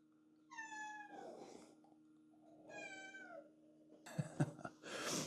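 A cat meows twice, close and clear, with a pause between, followed by brief scuffling and clattering noises.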